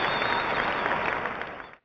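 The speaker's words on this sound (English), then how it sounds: "That was an applause." A live studio audience gives a brief burst of dense hand-clapping, loud and close at first, then fading out quickly after under two seconds.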